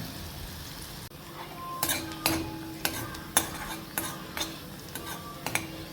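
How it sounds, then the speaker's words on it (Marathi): Chopped onion sautéing in a pan for moong dal, a steady low sizzle broken by repeated sharp scrapes and clinks of a spoon stirring against the metal pan, close up, with no talking. "चला मग आपण कांदा परतून घेऊया"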